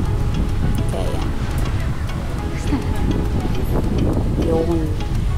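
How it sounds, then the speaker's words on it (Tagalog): Loud, constant wind buffets the microphone outdoors at a windmill farm on Guimaras Island, a steady roar with people talking faintly underneath. "Mahangin dito sobra."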